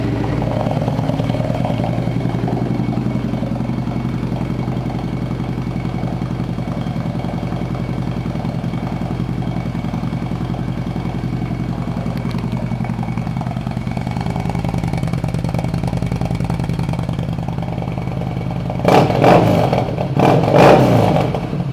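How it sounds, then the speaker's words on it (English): A 2015 Yamaha Star Bolt 950 motorcycle idles with a loud, steady, close engine rumble, then gives a couple of sharp revs near the end. "This 2015 Yamaha Bolt 950 is a pre-owned motorcycle"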